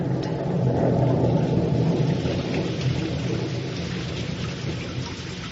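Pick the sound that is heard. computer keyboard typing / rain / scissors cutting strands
rain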